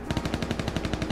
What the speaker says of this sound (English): Where am I getting shot at from?